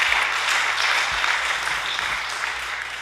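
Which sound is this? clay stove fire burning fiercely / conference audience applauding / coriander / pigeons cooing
conference audience applauding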